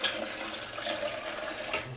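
Fresh water poured down the center of a soy milk maker jug, a steady close splashing pour that runs continuously without any talk.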